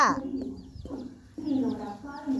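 Chickens kept at home cluck and squawk in short bursts at close range, a few loud calls with pauses between them.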